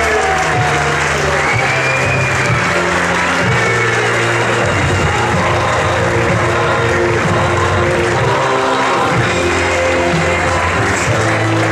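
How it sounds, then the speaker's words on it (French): Sustained applause fills a tournament opening ceremony as the Perpignan-Canet team is introduced, a dense, steady clatter of many hands from a large crowd, with a faint announcer voice beneath. "Merci d'applaudir Perpignan-Canet."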